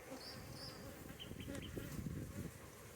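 Honeybees buzzing close by at an opened hive, a soft hum with individual bees drifting past, fairly quiet and continuous.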